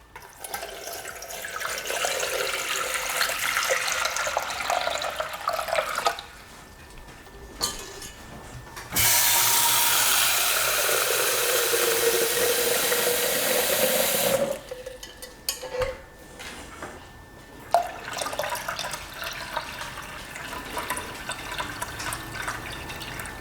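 Water from a tap pouring into a Thermomix bowl to weigh in 1.7 litres, a loud steady rushing splash lasting several seconds, surrounded by quieter kitchen handling clatter and clicks before and after, close up and without talk.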